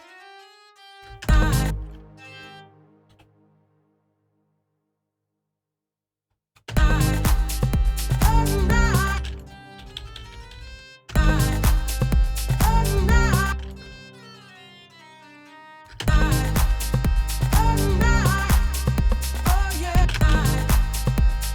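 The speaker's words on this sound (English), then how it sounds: "So now we need to hit a chord with those strings" Loud sustained string-synth chords in Ableton swell and hold in several long blocks, separated by a pause of near silence and a short earlier burst.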